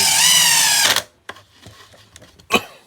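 A power drill whirs loudly at a steady high pitch while building a roof snow pusher, then winds down and stops, followed by scattered clicks and handling knocks nearby.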